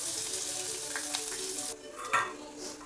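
Onion hitting a hot pan for a Maharashtrian bharit with whole peanuts, a bright hissing sizzle that drops away, then a clatter and renewed frying, close and alone.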